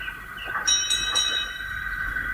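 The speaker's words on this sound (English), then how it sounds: "At that moment, Toby came steaming in." A steam tram engine pulls into a station, a steady mechanical rumble carrying a few sharp bell-like or whistle-like tones early on, with no voices.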